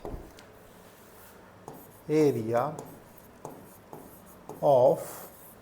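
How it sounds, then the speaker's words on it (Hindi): Pen scratching on paper while a CBSE Class 12 maths exam problem is solved, short strokes coming in a couple of bursts between quiet gaps, with no talking. "तो मैं लिखता हूँ"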